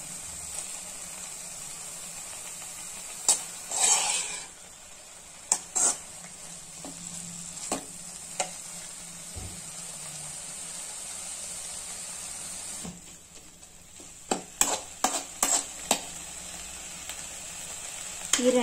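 Manathakkali greens stirred and frying in a kadai, a steady sizzle with scraping ladle strokes and occasional sharp clinks against the pan, close and fairly quiet throughout.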